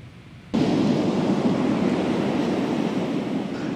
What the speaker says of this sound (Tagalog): Nagngangalit ang alon sa bahaging ito ng West Philippine Sea sa tapat ng barangay Kaawakan, Lawag, Ilocos Norte.